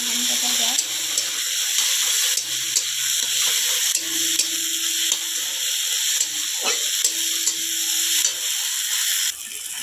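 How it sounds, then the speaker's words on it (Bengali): Ginger-garlic paste fries with tomato in a pan for a pointed gourd curry, sizzling loudly and steadily under regular scraping stirs, while a voice murmurs now and then in the background. "ভালো করে আদা রসুনটা ভেজে নেবো যতক্ষণ না কাঁচা গন্ধটা যায়"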